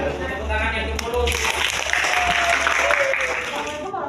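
Applause from a seated audience rises after a student presentation on the human reproductive system, a steady patter of clapping that swells midway and holds to the end, with a voice speaking over the opening moments.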